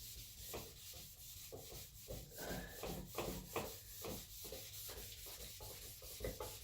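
A painted part from a Suzuki Intruder motorcycle is hand-sanded to scuff the finish, giving quiet, close, rhythmic rubbing strokes that repeat back and forth at a steady pace.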